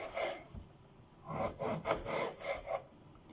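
A knife slices through an apple for a crumble, giving a few close, soft crunching and scraping strokes in short bursts with brief pauses between them, and no one speaks.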